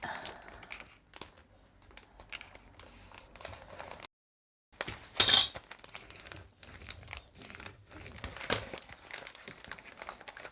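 Paper bags are folded by hand for a small handmade album, giving intermittent close crinkling and rustling with sharp creases, a brief silent pause and faint talk in the background.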